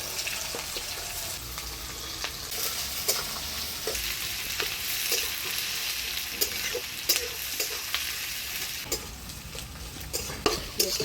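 Chopped onion hits hot oil already tempered with dried red chilli, whole cumin, bay leaf and whole garam masala, sizzling steadily while a spatula scrapes and stirs in repeated sharp strokes, close by, with no talking.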